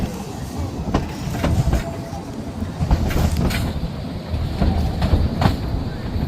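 Roaring Camp redwood steam train rolling along its rails through the forest, a continuous low rumble with rhythmic clickety-clack wheel beats and occasional metallic squeals, close and steady throughout.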